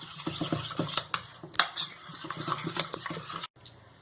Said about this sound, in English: I am going to whisk it gently